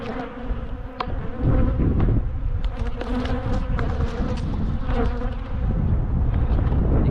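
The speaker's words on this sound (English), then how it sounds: "Get these angry bees away from me." Dense, loud buzzing of many bees swarming close by, a continuous droning hum with individual insects zipping past.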